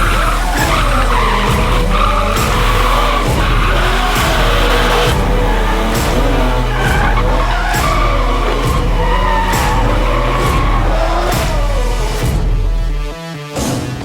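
Continuous loud tire squealing and roaring engines as cars drift in the Hoonigan burnyard, with rising and falling screeches layered over a steady rumble.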